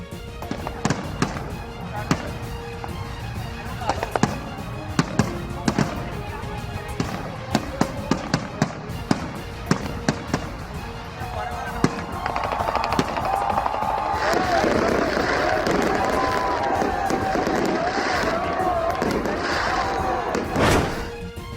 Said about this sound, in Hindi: मुख्तलिफ शहरों में आतिशबाजी, आसमान जगमगा उठा।